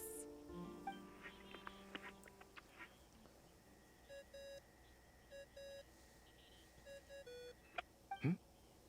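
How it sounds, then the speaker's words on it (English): Repeated short electronic ringing beeps from a phone in a video game, sounding in evenly spaced pairs over a faint ambient background of tones and soft effects. "I really hate that ringing tone."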